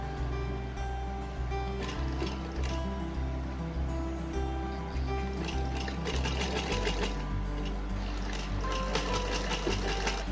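A sewing machine stitches the folded front shirt strips of a small doll suit, whirring in steady rapid bursts with short pauses, close and clear, with no one talking.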